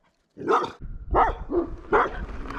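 A dog near a campsite barks at a passing cyclist, several loud, close barks in an uneven rhythm with short gaps between them.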